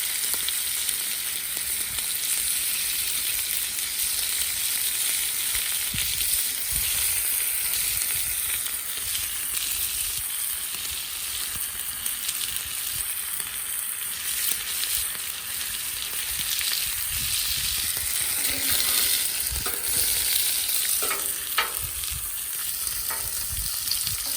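Bacon and potatoes fry on a Blackstone griddle, a continuous crackling sizzle with occasional louder spatters and brief scraping sounds late on.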